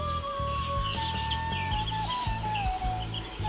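A hen kept for hatching eggs clucks close by in a steady, continuous murmur, with a few higher chirps and a faint whistling tone running underneath.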